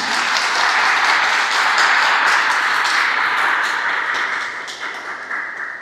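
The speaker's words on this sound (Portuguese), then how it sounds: "Você pode dar uma salva de palmas ao Senhor por isso?" A church congregation breaks into sustained applause during a sermon, a dense wash of many hands clapping at a steady level before gradually thinning toward the end.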